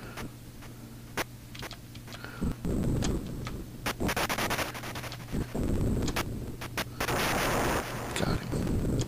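Gunfire in the 2012 SparrowOS computer game X-Caliber comes as sharp ticks and rough, noisy bursts of shots. They play over a constant electronic hum, with dense clusters of firing in the middle and near the end.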